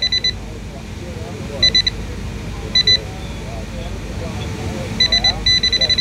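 A Nokta Accupoint metal detector pinpointer held near a gold ring gives short bursts of high, pulsed electronic beeps at irregular intervals, close and clear over a low rumble of handling noise.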